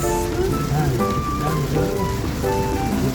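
Heavy rain pours steadily onto a surface at Tiplex, a dense continuous wash with some music or voices faintly underneath.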